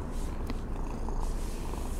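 A cat purrs steadily and softly at close range while being petted, a continuous low rumbling with no other voices.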